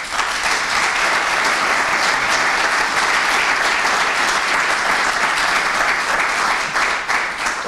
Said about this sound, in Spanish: yo creo que también eso merece un gran aplauso